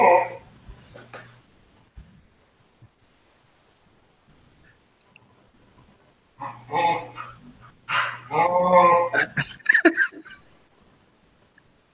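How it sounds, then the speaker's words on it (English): A puppy barks and yips in two close, choppy bursts, the second longer and busier, separated by a stretch of near silence. "I can't tell that's a puppy"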